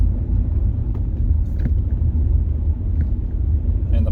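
A car driven with its catalytic converter missing gives a loud, steady, deep exhaust rumble from inside the cabin as it cruises home from work, with no talking.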